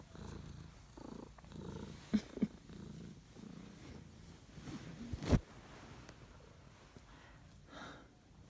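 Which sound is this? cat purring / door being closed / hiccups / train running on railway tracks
cat purring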